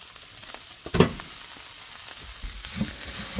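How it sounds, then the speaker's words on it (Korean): Rice stir-fried in a pan with ssamjang, mayonnaise and chili powder gives a soft sizzle, with a sharp scraping clatter of a utensil near the start and quieter stirring after. "전자레인지 돌린 밥이 아니다 보니까 딱딱해서 처음엔 밥을 볶기 힘들 수 있습니다"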